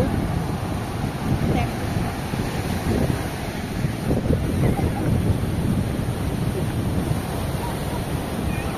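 Continuous roar of sea waves at Vizag mixed with gusting wind buffeting the microphone, loud and steady throughout, with a voice faintly under the noise.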